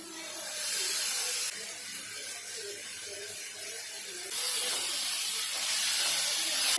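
Ground masala paste hits a pan of softened, salted tomatoes with a broad, steady sizzling hiss that drops slightly, then swells louder again, close and without speech.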